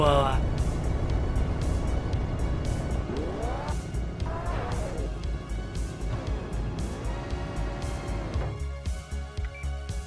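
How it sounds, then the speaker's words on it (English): Car in a video game stuck in snow without snow tires, its engine revving and wheels spinning with rising and falling whines and squeals, while a person talks over it throughout. "Oh, my car is stuck."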